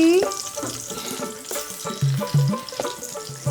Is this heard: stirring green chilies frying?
yes